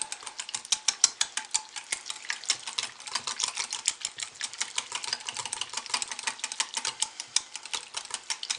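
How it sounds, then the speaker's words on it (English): Lemon poppy seed soap batter being stirred in a container, a fast, steady run of soft clicking scrapes and taps close by, continuous with no voices. "we're going to stir that in."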